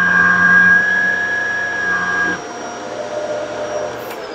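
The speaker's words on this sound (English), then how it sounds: "The low function works." A Shark Duo Clean vacuum cleaner hums steadily on its low setting, a close, even motor drone with a whine that drops slightly in pitch and level midway, with no talk.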